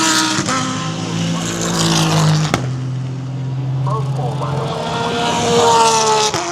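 GTD class race cars qualifying at the Rolex 24 endurance race, engines droning steadily at a distance, with a few sharp clicks and a louder pass toward the end, mixed with crowd and ambient noise.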